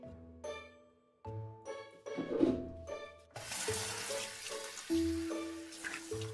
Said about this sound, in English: pull down the shower head, and begin washing yourself